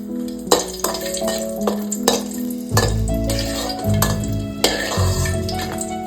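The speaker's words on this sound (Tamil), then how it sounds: "முதலில் 3 வரமிளகாய் எடுத்துக்கொள்ளணும். அதை பொன்னிறமாக வறுத்து எடுத்துக்கொள்ளணும்." Dried red chillies fry in a pan for chutney, with a close sizzle under repeated clinks and scrapes of a utensil against the metal pan.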